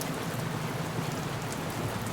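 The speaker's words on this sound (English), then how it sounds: "It's a quiet environment, with only the sound of the wind and rain hitting the bus windows." Steady wind and rain pattering against bus windows, a constant soft wash of drops with no voices.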